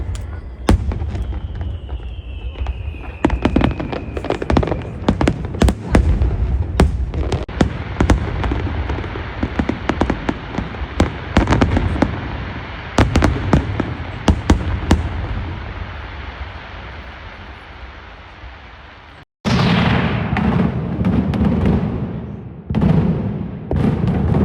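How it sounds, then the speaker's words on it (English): Midday fireworks display during Las Fallas in Valencia, a long dense barrage of loud, rapid booming bangs and crackles that runs almost continuously, then pauses briefly and resumes just as loud. "every day at 12 o'clock, there's a big firework"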